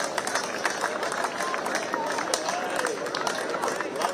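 Crowd applause at an outdoor Run for Unity event attended by the chief minister, steady scattered clapping mixed with crowd babble and a voice over a loudspeaker throughout.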